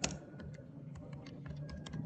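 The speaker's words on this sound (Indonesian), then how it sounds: "Mohon ketik kalimat ini pada kolom kalimat persetujuan. Jadi ini diketik manual ya." Faint, quick keystrokes tap out manually on a computer keyboard, an irregular patter of soft clicks close by in a quiet room.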